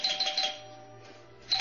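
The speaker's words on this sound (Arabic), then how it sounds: "ضغطت على الجرس،" A doorbell rings with a bright repeated electronic chime, several quick tones at the start and another tone near the end, fairly loud and alone.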